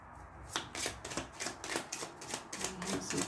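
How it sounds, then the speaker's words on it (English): Several decks of playing cards shuffled together at once, a run of crisp riffling bursts in a fairly steady rhythm, close and clear, with no talking. "You want me to shuffle all the decks now in front of you all at once."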